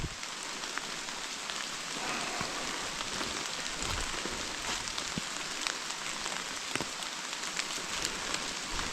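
Rain falls steadily on a forest floor thick with leaves during a May mushroom hunt, a dense continuous patter with scattered sharper drops throughout and no talking.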